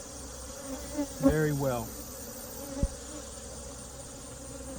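Honeybees buzz steadily around an open hive during a frame inspection, a constant close insect drone with a short spoken phrase and a brief knock partway through.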